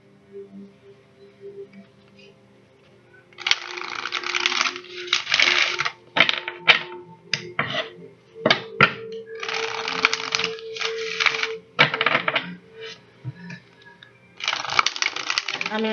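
Moonology oracle cards being shuffled and drawn, giving repeated close bursts of papery riffling and slapping with sharp card clicks between them, under quiet background talk.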